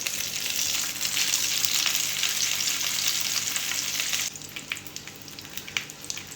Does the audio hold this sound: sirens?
no